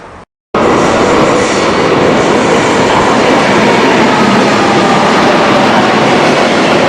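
A suburban train pulls into a station near Sintra, Portugal, a loud, steady broadband rumble and roar that holds for several seconds after a brief cut.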